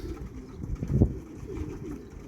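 Young racing pigeons coo softly in a loft, low murmuring calls overlapping in a steady, close bed of sound with a slightly stronger coo near the middle.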